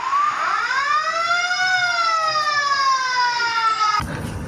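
A small red toy fire truck sounds its electronic siren, one loud rising-and-falling wail with stacked bright tones lasting about four seconds before cutting off abruptly into a brief rustle.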